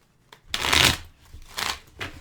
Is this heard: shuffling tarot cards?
yes